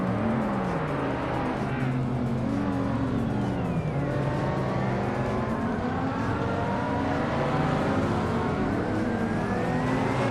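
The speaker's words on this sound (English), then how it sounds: "Gary 17 is driving a 1987 Porsche 959, a car known for its advanced aerodynamics and all-wheel drive" A 1987 Porsche 959 race car in a racing video game roars continuously, its engine pitch rising and falling through gear changes over a dense, loud wash of other cars nearby.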